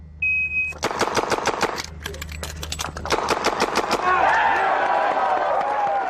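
Rapid gunfire from a shooting run: a quick string of sharp, loud shots, a short break for a reload, then another fast volley, ending in echoing reverberation.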